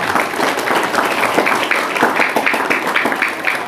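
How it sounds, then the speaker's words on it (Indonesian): An audience at an Islamic boarding school gathering applauds steadily, a dense wash of many hands clapping at once, sustained and fairly loud throughout. "tepuk tangan."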